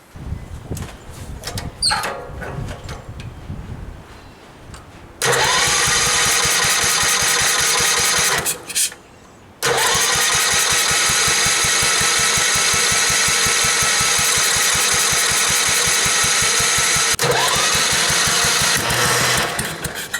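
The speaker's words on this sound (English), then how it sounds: "Let's crank her up and see if she starts." A Gravely tractor engine with a no-start fault cranks with an uneven rhythmic chugging, then catches and runs loud and steady with a brief dropout before running on, close by.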